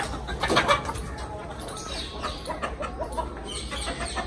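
Chickens of assorted breeds cluck on a farm, a busy chorus of close clucks and squawks over a steady low background rumble, with the calls strongest near the start.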